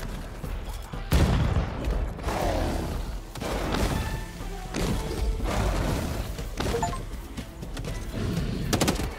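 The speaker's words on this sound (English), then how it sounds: "Guys, grenade." Grenades burst in the video game Hawked as a run of heavy, close blasts and thuds hits at irregular intervals, each one loud and booming over a busy background.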